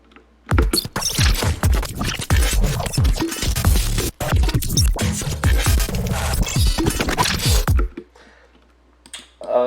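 A four-bar loop of sequenced glitch sounds: dense, stuttering bursts of clicks, scratches and chopped noise with a brief dropout midway, then cutting to near silence before a faint flicker returns.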